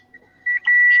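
An electronic alert sounds a steady single-pitched beep, one brief tone followed by a longer sustained beep, loud and close with no other sound.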